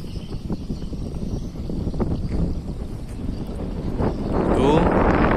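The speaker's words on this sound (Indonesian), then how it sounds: "teman-teman bisa dengar suara angin yang sangat sejuk" Wind gusts and rumbles across the microphone at a small fishing harbour on a hot day. The rough buffeting grows louder toward the end, and a voice talks faintly underneath.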